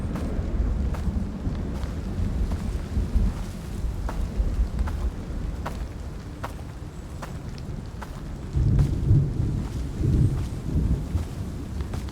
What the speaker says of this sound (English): Great lightning sounds.